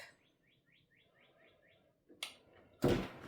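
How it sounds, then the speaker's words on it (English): Birds sing outside, a repeated series of six or seven bright chirps at a steady pace, faint and distant, followed by a couple of louder indoor thuds. "I hear your birds singing out there."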